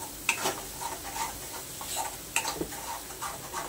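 Masala for egg curry roasts in oil in a pan until the oil separates, giving a quiet sizzle with soft scraping and stirring strokes at an uneven rhythm, heard close up.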